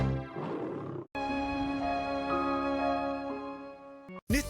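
A lion roar used in a Finnish radio advertisement: a single rough, loud roar, followed by a sustained bright tonal musical or jingle-like sound that ends abruptly, with a brief burst at the close.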